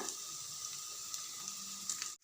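Onions frying with turmeric powder in a pan give a brief, soft, steady sizzle and crackle, heard close and alone.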